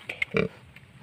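Sow with a litter of fourteen newborn piglets on a farm, giving a few short close grunts and squeals, the loudest burst in the middle, with no talking over them.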